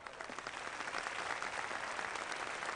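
Steady applause from a crowd at a political rally in a film scene, dense continuous clapping heard at moderate distance without pause.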